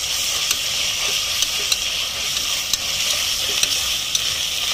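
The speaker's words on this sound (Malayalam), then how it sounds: "ഇഞ്ചി വെളുത്തുള്ളി പേസ്റ്റ്, ഇതും കൂടെ ഇട്ടിട്ട് നന്നായിട്ട് വഴച്ചാൽ" Ginger garlic paste sizzles and fries in a pan, a steady bright hiss with faint periodic stirring scrapes, close and continuous with no talking.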